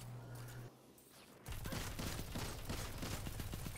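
A grenade blast in the shooter Destiny 2 cuts in after a quieter stretch, followed by a dense run of sharp, rapid gunfire bursts that stay loud and close through the rest of the moment.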